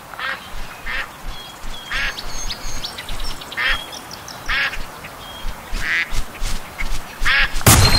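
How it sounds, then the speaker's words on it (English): Ducks in the Duck Dynasty hunting video game quack repeatedly, about a dozen loud, nasal calls spaced through a steady outdoor ambience. "Look, more ducks over there."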